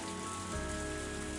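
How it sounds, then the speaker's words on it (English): Steady rain falls outdoors at night, a dense, even hiss of drops on surfaces that holds at constant loudness throughout, with a faint low rumble beneath. "As the rain came down on me"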